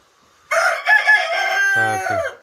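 A rooster crows loudly and close by in one long call, ending with a few short clucking notes; nothing else is audible.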